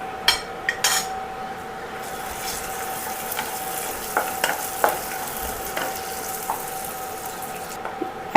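Cashews and butter going into bubbling caramel in a pan, a faint steady sizzle with scattered light clicks and scrapes of a spoon.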